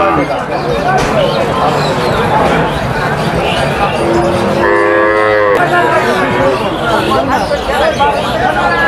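Cattle at the Baragram Makka cattle market in Natore district, Bangladesh, with one clear moo rising midway above a constant hubbub of crowd chatter and loud market noise.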